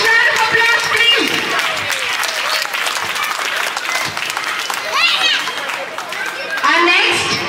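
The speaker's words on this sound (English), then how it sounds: "Can we have a huge round of applause, please?" Sustained audience applause fills a devotional festival gathering in Yapral, dense and loud throughout with crowd chatter and children's voices mixed in, swelling again near the end.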